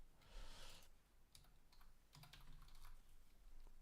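Rapid, quiet clicking of keys on a computer keyboard while coding in C, a busy uneven patter of taps close to the microphone with no talking.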